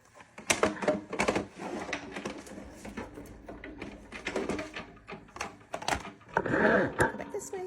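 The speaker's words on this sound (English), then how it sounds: "we're gonna roll it through our Sizzix Big Shot Plus again" A Sizzix Big Shot Plus die-cutting machine rolls felt through its plates with repeated clunks, clicks and grinding mechanical noise close by, while a person talks over it.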